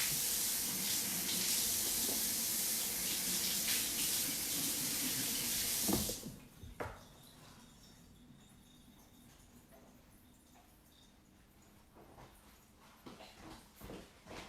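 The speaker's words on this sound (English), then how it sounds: "So I just need to wash her hand" Tap water gushes loudly into a sink while a small child's hand is washed, a bright steady spray for about six seconds that cuts off abruptly, followed by quiet drips and soft handling sounds.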